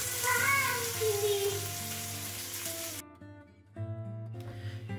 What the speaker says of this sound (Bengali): এখানে আমি স্যালমন মাছটা একটু হালকা তেলে ভেজে নিচ্ছি